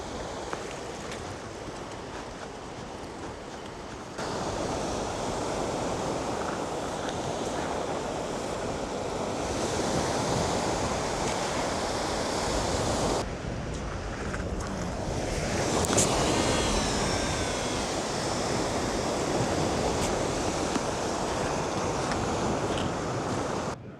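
Surf breaks steadily on Winchelsea Beach, a constant broad roar of waves washing in and out, with wind buffeting the microphone throughout and a louder surge of breaking water from around the middle onward. No one speaks.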